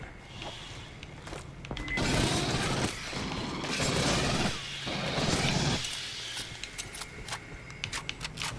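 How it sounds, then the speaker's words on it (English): Automatic weapon fire in the sci-fi shooter Aliens Fireteam Elite on Xbox Series X, coming in dense bursts of rapid shots with roaring game effects and creature noise, loud and fairly close, alone with no talk. "I heard gunfire."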